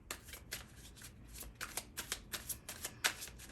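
Tarot cards being shuffled by hand in a series of quick riffling bursts, about a dozen soft crisp flutters in an uneven rhythm, close and quiet with no voice over them.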